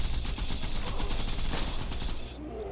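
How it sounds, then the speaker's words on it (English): Dense rapid-fire gunfire from weapons in the video game Borderlands 2, a continuous stuttering volley that holds steady and loud before tapering off at the end. "we're just going to unload our magazines into him"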